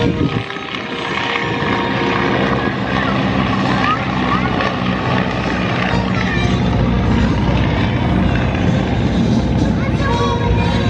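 Propeller airplanes rumble and drone loudly as they make a formation takeoff at a flying circus airshow, a continuous engine roar, with people talking and cheering over it.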